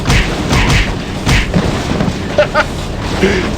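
Punches land on a thug in the video game Indiana Jones and the Great Circle, a series of loud, heavy thumps repeating every half second or so over game background noise.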